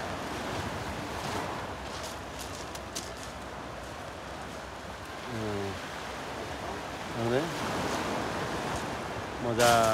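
Sea surf at the shore makes a broad, steady rushing wash mixed with wind buffeting the microphone, while voices talk briefly over it a few times toward the end.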